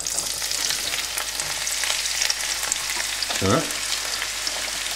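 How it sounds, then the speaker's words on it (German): Halved onions sizzle in hot oil in a frying pan, a dense, steady crackle close by with brief stirring, and a voice speaks a single short word near the end. "In der Pfanne habe ich mir jetzt Öl erhitzt und gebe erstmal die Hälfte der Zwiebeln da rein."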